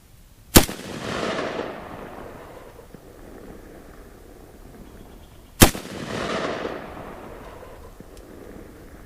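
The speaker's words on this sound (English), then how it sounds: "let's fire 3 shots and walk up there and see what we got" Two loud, sharp rifle shots about five seconds apart, fired at a target while sighting in a Redfield Counterstrike red dot sight, each followed by a long rolling outdoor echo, with no talking.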